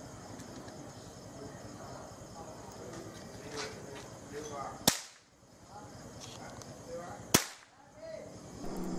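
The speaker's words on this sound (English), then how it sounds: "And now I'm loading the cap gun." A cap gun fires two sharp, loud cracks a few seconds apart, set against a busy background of other noise during Chinese New Year festivities.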